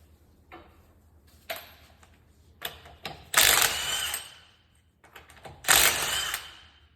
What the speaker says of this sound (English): Your locking lug nut wrench should be in your glove box.